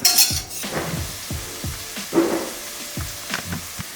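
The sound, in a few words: onions with mustard seed powder and pepper flakes frying, stirred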